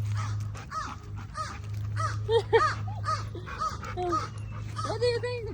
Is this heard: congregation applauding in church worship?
no